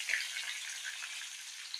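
Cauliflower and potato pieces frying in oil for a Bengali fish curry give off a quiet, steady sizzle with faint crackles, heard up close and alone.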